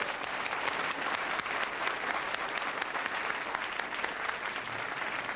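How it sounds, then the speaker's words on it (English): A crowd applauds Ron Dixon at a gathering, a continuous, even roar of many hands clapping, steady and somewhat distant, with no talk over it. "let's give him a big round of applause for Ron Dixon"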